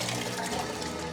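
Cold water pouring into a pot of soaked beans for an army-style bean soup, a brief, soft, even gush of liquid with no talk.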